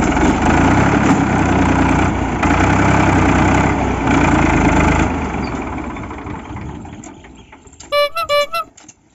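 A tractor stuck in sand runs with a steady, loud engine drone that fades toward the end, followed by a burst of several short tooting tones.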